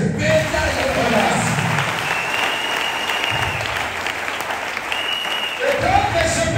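A church congregation breaks into sustained applause, a steady wash of clapping from many hands that lasts several seconds, with voices faintly underneath.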